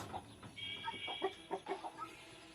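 A hen clucks softly in a string of short, uneven notes, fairly quiet against a low background hiss.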